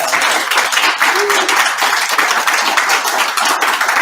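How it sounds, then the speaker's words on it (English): A roast audience claps loudly and continuously, a thick close burst of many hands that holds its level throughout. "And give her a round of applause."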